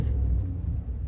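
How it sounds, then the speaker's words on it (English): A Maserati Levante V8 Ultima SUV starts up in sport mode with a deep, steady engine rumble up close, filling the whole short moment with low throaty drone. "now we start in sport mode"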